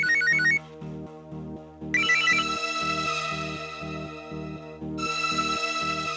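A phone ringtone plays a repeating electronic melody over a steady pulsing bass pattern, loud and continuous with no voices.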